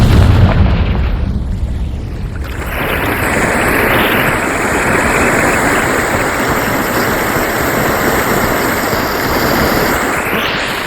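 A Confringo fire spell in Hogwarts Legacy detonates with a loud boom, then a sustained, roaring wash of fiery rumble that fills the scene for many seconds with no voices.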